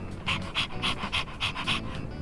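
A dog pants rapidly in Persona 3 Reload, about eight quick rhythmic breaths close and clear over a faint background.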